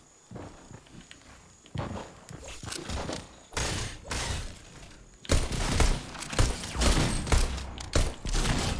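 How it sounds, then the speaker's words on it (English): Gunfire in a jungle-set shooter video game, with a shotgun involved: bursts of loud, rapid shots and impacts cluster through the second half, preceded by scattered thuds and footstep-like hits, with no talk. "Is someone shooting at me?"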